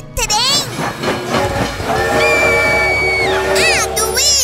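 A train-like creature noise in the video game Garten of Banban: loud rumbling clatter with a long sustained horn-like blare and rising whistling tones, heard close under overlapping game sounds.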